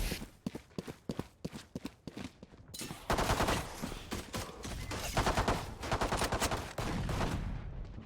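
Gunfire in a competitive video game match, including a shorty shotgun: a burst of sharp separate shots at first, then dense sustained rapid firing and explosions, loud and close, with no talk.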